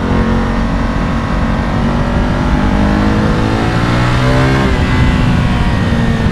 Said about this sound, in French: Et à haut régime, il se met vraiment à, ah, à grogner